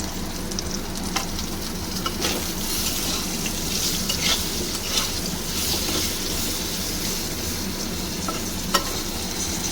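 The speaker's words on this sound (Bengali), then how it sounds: "আলুটা একটু ভেজে নেব।" Potatoes fry in hot oil for bata fish curry, a loud, close, continuous sizzle with light stirring scrapes throughout and no pause.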